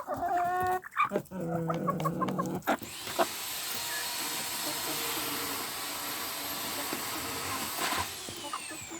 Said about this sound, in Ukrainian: Півник почав кукарікати, почав ухажувати за курочками, оцей білий.